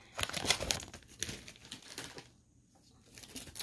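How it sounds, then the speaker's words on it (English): Crinkling plastic packaging from an online nail supplies haul, handled up close in continuous crackling, rustling bursts that fade briefly before resuming. "I'm sorry about all the crinkling."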